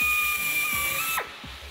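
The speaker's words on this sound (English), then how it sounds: "Mark it with a paint pen, and then start to drill." A power drill bores holes through an Arctic Cat snowmobile track for studs, giving a steady high whine close by that drops in pitch and winds down as the bit slows.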